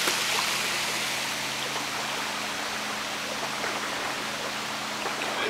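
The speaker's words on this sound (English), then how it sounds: "there's a dam right there, and the water gets let out" Water flowing out through a lake dam beside a wilderness cabin in October, a steady broadband rushing hiss that continues evenly throughout, moderately distant.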